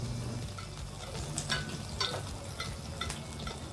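Butter sizzles softly in a pan while a sous vide steak is being seared. The frying hiss is quiet and steady, with a few brief clinks and scrapes on top.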